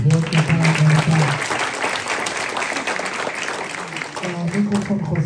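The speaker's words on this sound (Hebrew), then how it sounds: "מחיאות כפיים" An audience applauding steadily throughout at an evening event, dense clapping with voices talking over it at the start and end.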